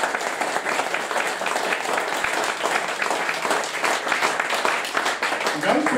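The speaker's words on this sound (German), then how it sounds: "Auch dafür einen großen Applaus." A crowd at an FC fan-club end-of-season gathering gives sustained applause, a dense, even wash of many hands clapping throughout, with faint voices mixed in.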